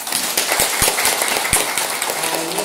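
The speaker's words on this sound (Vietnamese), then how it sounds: "chúng ta phải đảnh lễ tán thán công đức thầy chủ trì bằng tràng pháo tay" Applause from a temple congregation honouring the abbot at a Buddhist pagoda in Berlin, a steady wash of many hands clapping with a few sharper close claps standing out.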